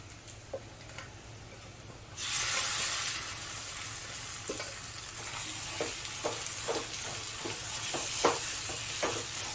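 Boiled toor dal is stirred into a spice mixture frying in a pan. A soft background sizzle grows louder after a couple of seconds, with repeated short scraping stir strokes over it, all fairly quiet and close.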